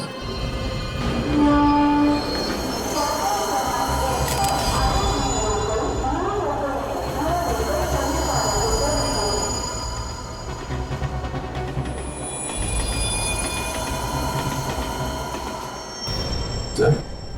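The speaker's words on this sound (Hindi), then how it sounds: "फ्रेडी, पता लगाओ ये ट्रेन आई कहां से है।" A train rumbles loudly along railway tracks with a dense, continuous rolling roar and some metallic squeals, easing briefly before building again, with voices faintly present underneath.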